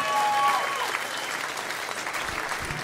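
A comedy show audience applauds steadily and loudly, a dense wash of clapping across a club crowd that holds for a few seconds without letting up.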